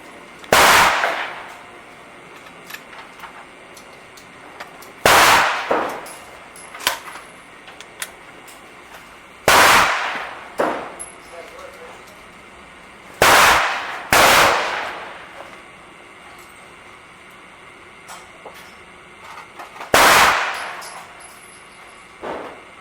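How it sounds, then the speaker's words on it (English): Five sharp gunshots ring out at an outdoor range, spaced a few seconds apart, each a loud crack with a short decaying tail, as traditional lube cast bullets are fired. "So now we're shooting the traditional lube bullets."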